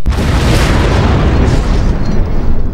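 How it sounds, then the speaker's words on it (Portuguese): A loud, close explosion fills the whole stretch with a dense, rumbling boom and crackling debris that slowly fades, and no voices are heard. "Explodiu. Foi. Todo mundo explodido."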